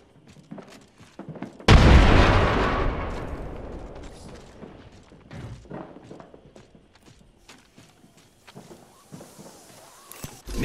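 A frag grenade detonates in Apex Legends with a single loud, close blast whose rumbling tail fades over several seconds. Scattered light clatter and footsteps follow.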